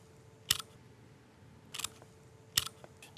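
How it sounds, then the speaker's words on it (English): Kitchen scissors trim the fins off a sole fish in three crisp, separate snips spaced about a second apart, close and quiet against a faint background hum. "now you can trim your fins off"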